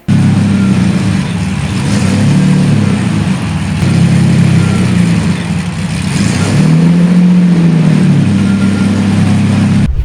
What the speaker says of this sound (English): this all-original 1994 Lamborghini Diablo VT